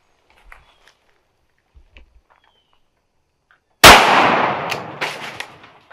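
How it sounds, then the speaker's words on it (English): One loud, close shotgun blast rings out at a squirrel in a tree on swampy Florida public land during a small-game hunt. A long echoing tail follows, after a few faint rustles and soft taps. "I need to not shoot him so close with a shotgun"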